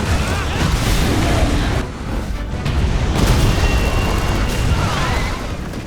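Supernova attack explosion from a monster in the Monster Hunter Stories 2: Wings of Ruin finale battle, a loud sustained rumbling blast with dense booming layers that briefly dips before surging again, set among busy game sounds and music.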